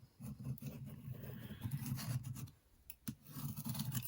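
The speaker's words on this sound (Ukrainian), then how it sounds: "Ми просто беремо і обводимо" Pen or pencil tracing circles around a glass on paper to make pompom templates, a steady close scratching rasp in a few continuous strokes with short pauses, no talking.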